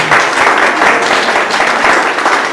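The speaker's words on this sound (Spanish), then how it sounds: "Y demos un aplauso al Señor." A church congregation gives sustained, loud applause at a Holy Communion service, dense steady clapping with a few stray voices filling the room for the whole stretch.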